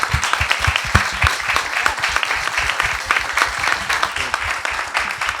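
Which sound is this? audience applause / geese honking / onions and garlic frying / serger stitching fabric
audience applause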